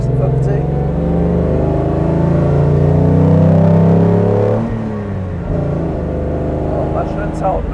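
A 1956 Mercedes 300 SL Gullwing with sidepipes and a fuel-injected racing engine revs and drones steadily with rising harmonics, then drops to a lower idle; voices murmur faintly in the background.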